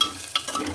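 Onions and potatoes being stirred in a pan for a Kathiyawadi-style sabzi, giving a brief scrape of a spoon with a soft sizzle underneath, close and fairly quiet.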